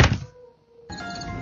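A single heavy thud opens the clip, standing in for a person falling to the ground in a ghost story, followed by a short quiet gap and then a low sustained tone.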